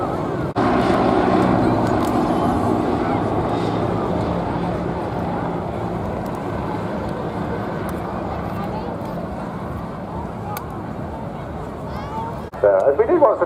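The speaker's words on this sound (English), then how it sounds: "The aircraft coming around now to be going in to break their formation." Navy Wings aircraft flying in formation at the Bournemouth Airshow give a steady, distant engine drone that fills the air, while an announcer talks over it throughout.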